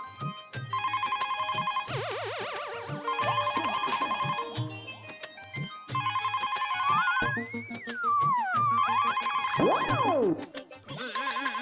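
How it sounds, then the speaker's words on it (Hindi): A telephone ringtone in a Hindi TV comedy household scene, an electronic melodic ring repeating in loud bursts with short pauses, joined by sliding, warbling sound effects partway through. "फोन बज रहा है।"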